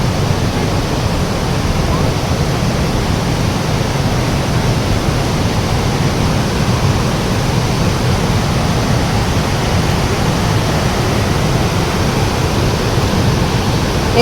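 A fast-running stream of water too swift for fish rushes in a steady, loud, unbroken wash from start to finish, with no voices over it.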